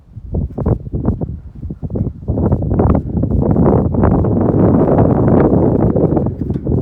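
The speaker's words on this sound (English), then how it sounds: "Windy and cold." Cold wind gusts on a mountaintop along the Appalachian Trail rumble and thump against the microphone, building from uneven bursts into a loud, sustained roar.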